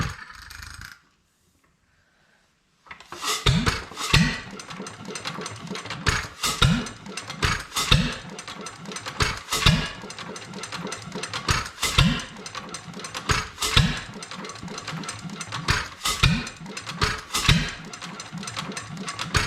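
Small engine running unevenly after its governor spring was readjusted, with a quiet pause before it fires up into a loud, irregular chugging and clattering, repeated bursts and surges close by.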